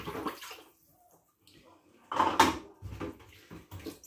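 Dishes are washed by hand in a tub of water, with quiet sloshing and splashes plus clinks of crockery in short bursts amid pauses of near silence.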